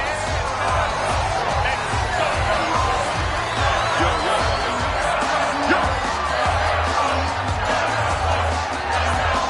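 A stadium crowd in a PlayStation 4 football video game cheers and murmurs steadily throughout, a dense wash of voices with no single caller standing out.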